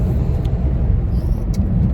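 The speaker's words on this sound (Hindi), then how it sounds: "जयपुर में शाम को ट्रैफिक ज्यादा रहता है" Heavy evening road traffic in Jaipur rumbles as a dense, continuous roar of nearby cars and engines, with no talking.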